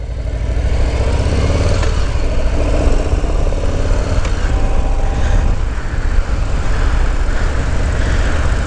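A Harley-Davidson Low Rider S motorcycle engine idles steadily up close at the Sturgis Rally, a loud, low, continuous rumble with slight fluctuations and no voices.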